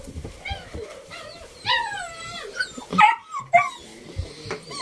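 Puppies whimper and yip in a barn where they are being housed, several high, wavering cries overlapping in quick succession, fairly close and loud, with no talking.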